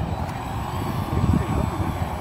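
A Dynam Grand Cruiser electric model airplane with retracts taxis at a model flying field on a spring morning, giving a steady low motor and propeller hum that stays fairly constant throughout.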